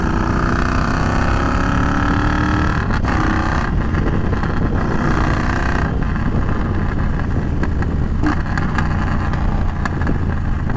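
A Triumph Bonneville Bobber motorcycle engine running loud and close, a dense steady throb with rising revs and slight surges throughout, no talking.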